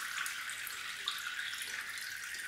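Water streams and trickles steadily out of a 1983 G.I. Joe APC toy after a short dunk, a continuous close splashy hiss with a few faint drips, no talking.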